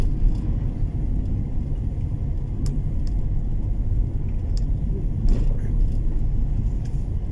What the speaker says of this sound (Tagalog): Traffic talaga.